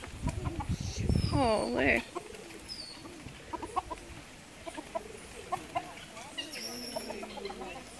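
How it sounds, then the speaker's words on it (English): A rooster crows loudly nearby at feeding time at the Barbados Wildlife Reserve, followed by scattered clucking from chickens, with a person's brief exclamation partway through. "there's a rooster."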